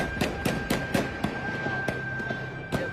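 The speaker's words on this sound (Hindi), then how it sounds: "फायरिंग की जा रही है नाज़रीन" Gunfire during a violent protest clash, a rapid series of sharp cracks at uneven intervals in the first second, then sparser distant shots over a steady crowd-and-street din with a faint high tone.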